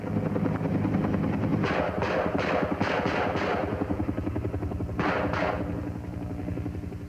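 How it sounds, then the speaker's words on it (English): Military helicopter gunships fly close overhead with loud, steady rotor chop, and a few sharp bursts like gunfire cut through the drone. "A second set of gunships is launched to replace the first pair, whose ordnance is about expended."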